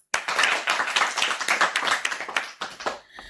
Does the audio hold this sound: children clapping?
yes